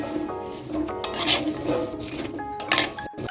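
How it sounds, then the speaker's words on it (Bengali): Raw green mango pieces mixed with salt and turmeric in a bowl, a spoon clinking and scraping against the bowl in several close, uneven strokes with soft wet squishing between them. "এখন আমি নুন হলুদটা আমের সঙ্গে ভালো করে মিশিয়ে নিচ্ছি"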